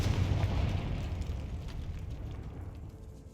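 The Confringo spell from the game Hogwarts Legacy bursts at the very start with a deep boom, followed by a rumbling decay that fades gradually over a few seconds. No one speaks.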